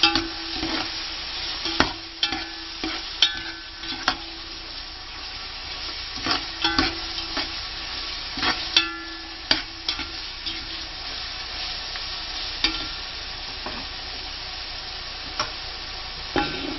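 Spices for chicken biryani fry and crackle in a pan while being stirred, a steady close sizzle broken by repeated scraping clicks of the spoon against the pan, with no voices.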